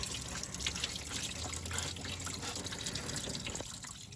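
Coolant runs steadily out of the drain on the radiator of a 1992 Ford F-150, a continuous close trickling and splashing of liquid with no talk.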